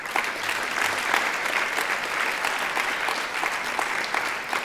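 An audience at a live contest applauds steadily, a dense sustained patter of many hands clapping close by, continuing without pause for several seconds.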